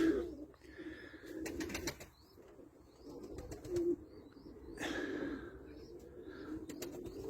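Pigeons coo softly in a loft or coop, low throaty calls repeating at irregular intervals, with occasional wing flaps and chirps mixed in at moderate distance.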